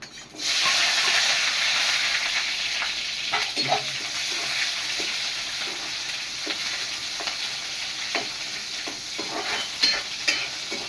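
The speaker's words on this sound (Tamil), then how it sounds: "இப்போ வெங்காயம் சின்ன வெங்காயம் தான் போடணும், பெரிய வெங்காயம் போடக்கூடாது" Small shallots sizzling steadily in a pan for a mushroom curry, a constant loud hiss with occasional scrapes of stirring, heard close and alone without talk.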